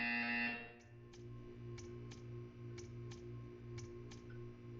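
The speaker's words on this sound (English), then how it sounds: "You will hear a buzzer. When you hear the buzzer, stare at the art." A buzzer in the video game Portal 2 sounds loudly at first, then stops, leaving a low electronic hum with a regular series of faint ticking clicks, and no speech.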